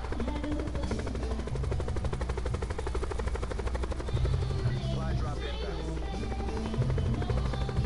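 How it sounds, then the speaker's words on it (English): Helicopter rotor chopping steadily throughout in the video game Call of Duty: Black Ops, with a continuous engine drone and bursts of rapid gunfire-like rattling layered on top; talking is faintly mixed in. "It's not hard to drive a helicopter."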